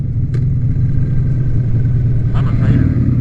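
Steady, loud rumble of a 2003 Harley-Davidson Sportster 100th Anniversary motorcycle being ridden on a country road, a continuous low engine drone with wind noise throughout.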